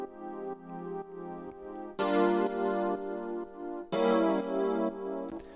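Sustained Korg M1 VST electric piano house chords ring out alone, each held for a couple of seconds before changing, with a bright, full tone and steady loudness.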